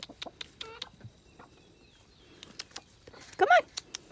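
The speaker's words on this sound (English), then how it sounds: "Give them to the chickens." Backyard chickens being fed worms, soft scattered clucks near and low, ending with a louder squawking burst, amid quiet outdoor background and a few small knocks.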